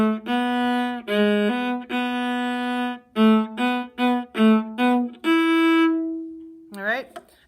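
Solo viola in half position plays a melodic passage from Deck the Hall of the Mountain King, a string of bowed notes in steady rhythm ending on a long held tone, then a brief rising slide.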